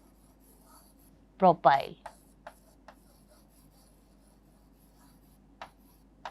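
Pen or marker writing out a chemical compound name on a board, a few quick scratchy strokes followed by sparse taps, with a voice speaking briefly over it.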